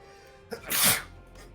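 A single loud sneeze bursts out close by, with a short intake just before it, then quiet.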